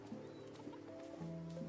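A chicken in the video game Mutazione clucks as it is chased, a few short quiet clucks and squawks over a soft ambient game background.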